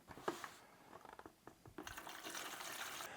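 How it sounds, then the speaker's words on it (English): Water pours into a Halloween cauldron mister from a Target, Walmart or Dollar Tree set, close by, with irregular clicks and knocks at first, then a steady trickling fill for the final second or so. "Let's go ahead and fill the water up to the minimum and maximum line"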